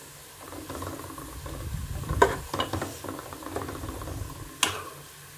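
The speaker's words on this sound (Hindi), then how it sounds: "प्याज को हमको गोल्डन फ्राई करना है।" Onions frying golden in a pan for chicken pulao give a constant close sizzle, broken by a few sharp spatula scrapes and clicks against the pan.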